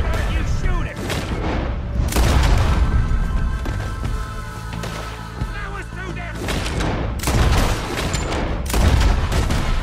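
Gunfire in the video game Red Dead Redemption 2: loud, repeated shots and booming reports ring out across the clip in uneven bursts, with voices underneath.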